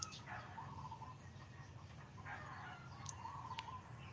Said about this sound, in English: You hear birds, you might hear the animals.